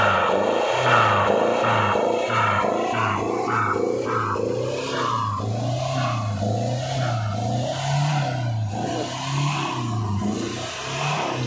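A Hyundai Verna diesel car fitted with a custom exhaust roars loudly and close, its engine note rising and falling in repeated throttle blips and revs over a deep droning rumble.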